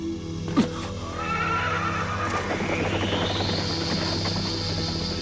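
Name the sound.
horse neighing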